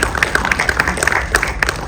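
An audience at a book release press conference claps steadily, with a quick, fairly close patter of hands throughout and no break.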